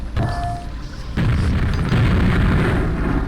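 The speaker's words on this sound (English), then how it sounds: "it shoots up in the air, and explodes, releasing 10 more grenades that fall to the ground, and they explode in mid-air" In a video game, a cluster grenade bursts in mid-air and scatters smaller grenades that explode in turn, a loud layered boom that swells into a sustained rumbling roar of blasts.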